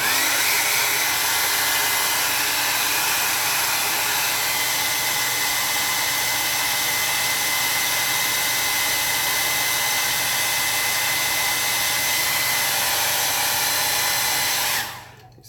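A hair dryer blows steadily on a watercolor snowy landscape painting, a loud continuous whooshing roar held close for about fifteen seconds before it switches off abruptly.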